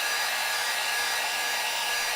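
Steady, loud airy blowing of a hair dryer or heat gun running continuously at close range, with no pauses.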